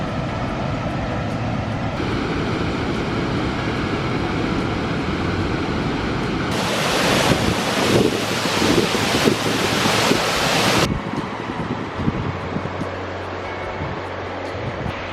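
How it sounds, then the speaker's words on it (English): High Force Waterfall on the River Tees roars as a steady broadband rush, growing louder and harsher in the middle stretch before easing back, with wind buffeting the microphone. "Just coming up to High Force Waterfall."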